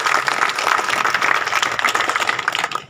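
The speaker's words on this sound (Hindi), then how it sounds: "ये तीनों हजरात के लिए एक बार पहले जोरदार ताली तो बजा दें" Dense, loud audience applause for three guests at a community event in a KMC ward, steady clapping from many hands throughout, with no voices over it.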